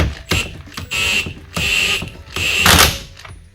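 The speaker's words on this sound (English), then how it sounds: "Now I'm using an impact to put that on, but I have it turned right down" Short bursts of an impact wrench turned down to a low setting run a nylock nut onto a Pontiac G5 steering column, about four close, loud buzzing hits separated by brief pauses.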